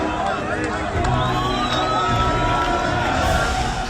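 Crowd of thousands in the West Bank welcoming released Palestinian prisoners, a dense continuous roar of cheering and shouting voices heard at some distance, with a voice talking over it.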